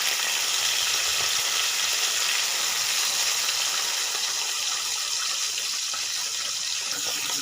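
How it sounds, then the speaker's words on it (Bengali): Pabda fish fry in oil in a pan, producing a loud, steady bubbling sizzle that holds evenly throughout, with no voices. "একটু ফুটছে মাছগুলো।"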